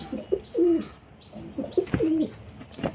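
Pigeons coo in a loft kept for breeding, the soft throaty calls repeating in short phrases near the microphone, with no talk over them.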